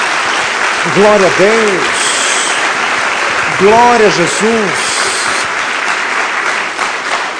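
A church congregation applauding during a Portuguese-language service, a broad continuous wash of clapping with voices calling out over it, loud and full throughout.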